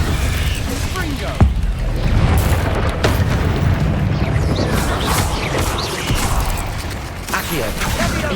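Confringo spell blasts in the video game Hogwarts Legacy: loud booming explosions and crashing effects over dense game noise, with a player shouting throughout.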